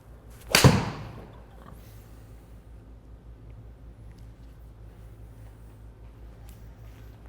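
Golf ball struck with a new TaylorMade P790 iron: a single sharp, loud click at impact followed by a fading whoosh of ball flight and quiet outdoor ambience.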